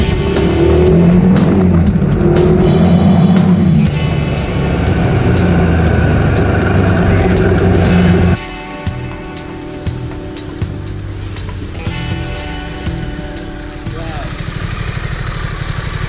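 A 2021 Harley-Davidson Pan America adventure motorcycle ridden through central London, its engine loud and close as it revs and pulls hard, then settles to a lower drone; a rider's voice is heard.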